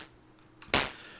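A Moog DFAM drum synthesizer fires a single synthesized clap, a sharp bright noisy burst that decays quickly, preceded by faint quieter ticks.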